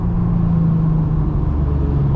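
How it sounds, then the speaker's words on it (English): An Audi S4 B8.5 with AWE exhaust, test pipes and a supercharger drives along a strip, giving a loud, steady, deep exhaust rumble heard close up. "I'm just gonna drive around the strip and let you guys hear the exhaust note"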